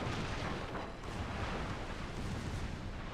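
Torpedo explosions in World of Warships rumble as a continuous, heavy roar of blasts, loud and broadband, with no distinct gaps between detonations.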